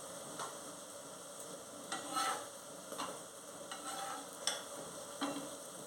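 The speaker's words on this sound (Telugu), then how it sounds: "చపాతీలు కాల్చుకుంటున్నాను." A beetroot chapati roasts on a hot pan, with a soft background hiss and scattered scraping, tapping touches as it is pressed and turned, close and fairly quiet.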